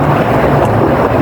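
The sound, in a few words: strong wind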